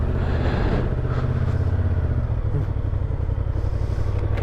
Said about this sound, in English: So the bike starts, runs normally.